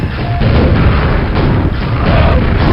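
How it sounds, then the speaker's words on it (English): A trapdoor opening in the video game Quake, heard as loud, heavy booming thuds that repeat over a steady low rumble. "here comes a trapdoor"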